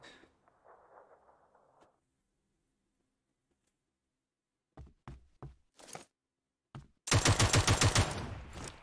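An M16 rifle on full auto in a video game fires a few separate single shots, then a loud rapid burst of gunfire near the end, after a faint opening sound and a stretch of silence.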